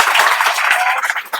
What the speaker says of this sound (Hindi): सर के लिए एक बार ताली बजाइए।